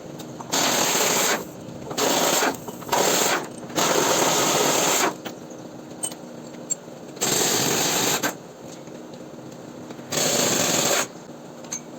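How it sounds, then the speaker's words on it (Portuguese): A pneumatic impact wrench removes a suspension part from a Chevrolet Corsa during clutch repair: several loud, close, rattling bursts of a second or so each, separated by short pauses with a faint background hiss. "veja como é rápido para tirar essa parte da suspensão com o uso da chave de impacto pneumática"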